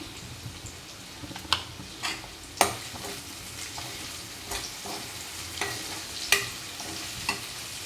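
Chopped red chillies fry with softened tomatoes in a pan, giving a soft, steady sizzle punctuated by sharp scrapes and taps of a spoon stirring every second or so.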